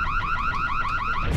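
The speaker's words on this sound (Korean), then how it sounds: "뭐야, 차 경보음 같은 거야?" The giant robot Megaleg in Super Mario Galaxy gives off a car-alarm-like wail, a loud steady series of rapid rising whoops repeating about eight times in just over a second, with no voices.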